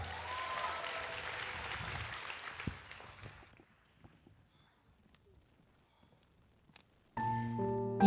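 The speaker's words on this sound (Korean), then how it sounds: "큰 박수로 맞이해주세요" A school festival audience claps to welcome a musical performance, moderate applause that fades out after about three seconds into near silence before music starts at the end.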